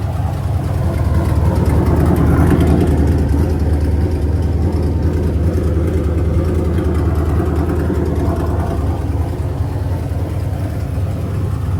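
An old asphalt Pro Late Model race car, converted from a dirt late model, idles loudly and close with a steady, deep rumbling engine note and slight swells, with no talk.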